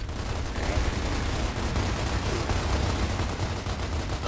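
Dense, continuous gunfire from a shotgun battle in Gears of War on Insane difficulty, loud and constant, a sustained barrage of overlapping blasts with no talking.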